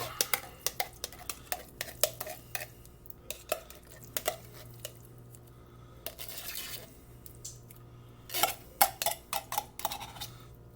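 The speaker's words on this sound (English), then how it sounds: "Grab you a butter knife and we're just going to go around the edges, kind of scoop it out" A butter knife scrapes canned pumpkin from around the inside edges of a metal can, producing repeated sharp metallic clinks and scrapes in irregular bursts, close up, with a faint steady hum underneath.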